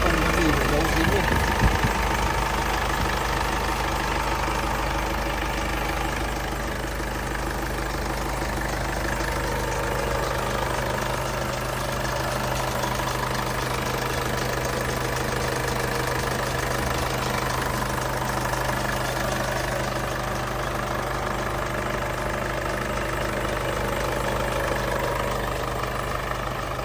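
A 2016 Isuzu D-Max pickup with a 2.5-litre diesel engine and automatic gearbox idles steadily nearby, its low, even rumble running the whole time while someone talks over it.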